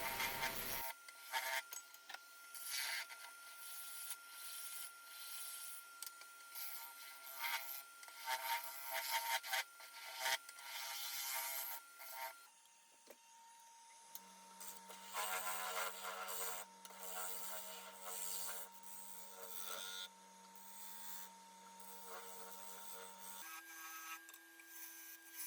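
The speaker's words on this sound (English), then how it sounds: "Using this skew chisel to flatten the bottom, and then define the area for the mortise and the foot." A skew chisel cuts wood on a lathe, a continuous scraping and shaving sound with rough, rasping texture and a steady faint motor hum underneath. It runs unbroken and close, with a short lull midway, and nobody speaks.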